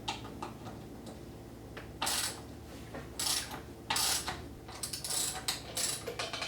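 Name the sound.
ratchet with 8mm socket removing hex nut bolts on KTM 300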